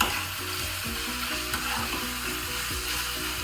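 Butter sizzling in a pan for toasting a sandwich, a loud steady crackling fry with a repeating mechanical rattle underneath, no voices.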